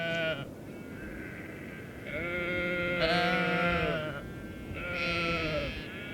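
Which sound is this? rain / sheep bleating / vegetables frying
sheep bleating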